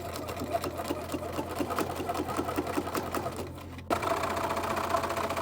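A sewing machine runs in fast rhythmic stitching bursts while sewing a lining around a curve, steady and close, with one short pause near the end before it starts again.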